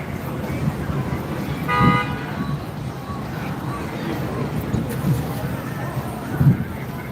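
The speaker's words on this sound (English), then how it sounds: "Canadians love to honk." A car horn sounds briefly in a noisy street scene at Niagara Falls, Canada, with a short toot rising above the background hum and people talking nearby.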